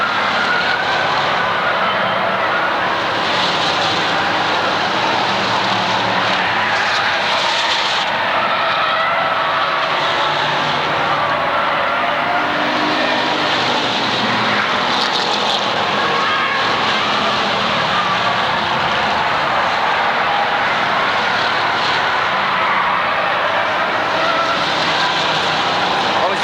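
Pure stock race cars roar around the Waterford Speedbowl oval in a steady, loud wash of engine noise, with a race announcer talking over the pack as it circles the track.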